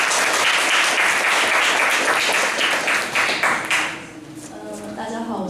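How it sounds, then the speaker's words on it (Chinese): An audience at a talk applauds to welcome a speaker, dense steady clapping that fades out after a few seconds, followed by a voice beginning to speak. "好，然后我们就热烈掌声先欢迎立方啊"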